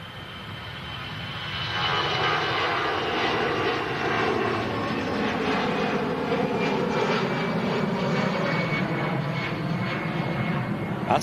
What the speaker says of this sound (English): CF56 engines, creating that buzzsaw sound there on the Iberia Express heading back to Madrid.